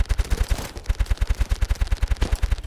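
Steady, rapid gunfire from a multiplayer shooter game, loud and close, with evenly spaced shots forming a continuous automatic rhythm throughout.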